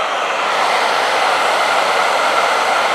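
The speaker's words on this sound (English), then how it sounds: "this is actually a pretty powerful hair dryer" A powerful hair dryer runs on a BLUETTI EB3A power station, giving a steady, loud, close airy whoosh throughout with no variation.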